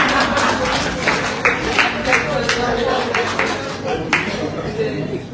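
Scattered audience clapping at a cyber security workshop for seniors in Dominica: several sharp, uneven claps ring out over a steady wash of crowd noise and voices, fairly close and moderately loud.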